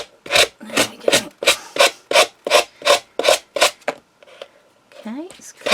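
A sanding block rubs back and forth along the edge of paper on a miniature bookcase craft piece, about a dozen loud, close rasping strokes in steady rhythm, then a brief quieter pause with faint handling sounds.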